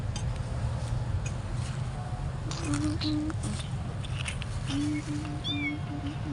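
A kitten rescued along a road meows in short, high, wavering cries, repeated several times over a steady background hum, with a voice murmuring faintly at times.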